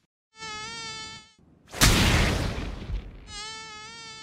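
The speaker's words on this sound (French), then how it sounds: "Viens là, saloperie de moustique de tes mains!" Cartoon mosquito buzzing in a parody, a thin high whine heard twice, broken by a loud slap-like crash of noise.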